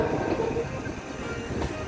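Special express train No. 13 from Bangkok to Chiang Mai running on Thai railway track, a loud steady rumble of wheels and carriages heard up close, with faint rhythmic clatter and no voices.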